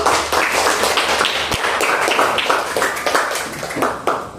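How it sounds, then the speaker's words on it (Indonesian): Students in a fifth-grade classroom clap their hands together in a quick, rhythmic patter of sharp, closely spaced claps, lively and fairly near, lasting several seconds. "Tepuk tangannya dulu."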